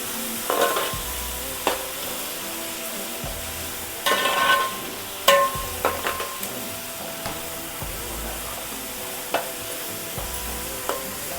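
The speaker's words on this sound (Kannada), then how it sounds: "ಈರುಳ್ಳಿನ ಚೆನ್ನಾಗಿ ಫ್ರೈ ಮಾಡ್ಕೊಂಬಿಡಕ್ಕೆ ಎಣ್ಣೆ ಒಳಗೆ" Onions fry in oil for a fish curry, giving a soft continuous sizzle with occasional spoon scrapes and clanks against the pan, close by and with no voices.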